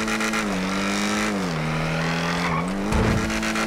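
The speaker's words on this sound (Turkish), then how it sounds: "Motorun sesi ve egzozlara bak şimdi bak." A loud, droning modified supercar engine in GTA 5 with a raspy exhaust note, pitch rising and falling as it revs, ending in a harsher burst.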